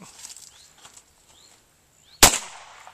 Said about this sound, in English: You ain't shot them all yet. You got to empty the gun.